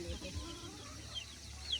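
Chickens clucking softly in a crowded backyard coop among closely packed houses, with faint scattered calls and a low background hum, no voices.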